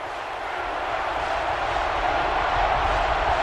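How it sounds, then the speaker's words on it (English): Football stadium crowd at the Florida Classic college game, a steady dense roar of cheering and noise that swells slightly over the stretch, with no clear voices above it. "So this crowd is making their presence felt."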